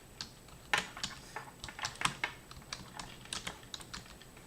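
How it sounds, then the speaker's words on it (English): Quiet, uneven tapping of keys on a computer keyboard, a steady run of soft clicks with occasional louder strikes, alone in a calm room. "Well, I'll quit typing."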